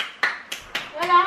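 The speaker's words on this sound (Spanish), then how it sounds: "se pone aquí mi hermana a aplaudir" A young girl claps her hands indoors: four sharp, close claps spaced at an even beat, with a voice briefly speaking over the last one.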